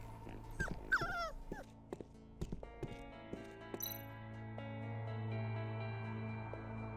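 A malnourished dog whimpers and yips in the video game Tales of the Neon Sea, several short whines and a few high cries in the first half, then a low sustained hum.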